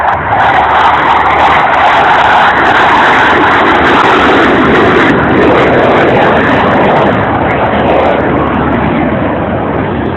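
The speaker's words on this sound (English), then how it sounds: "Flight capabilities of these FA-18s." FA-18 fighter jets performing at an air show at Jones Beach give a loud, sustained roar of jet engines that stays steady and close throughout, with no talk over it.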